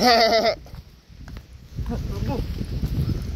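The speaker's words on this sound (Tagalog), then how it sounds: "Meron po ditong kambing." A goat gives a loud, wavering bleat at the start, then voices talk over strong gusting wind and background noise.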